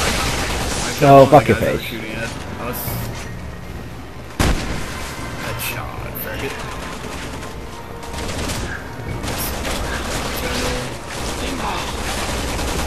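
Gunfire in the video game Resident Evil 6 crackles through the clip as dense, repeated shots under a steady game soundscape, with a sharp burst near the start and another loud hit midway, while a person talks over it.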